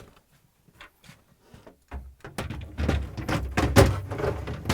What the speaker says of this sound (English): And now we can close the doors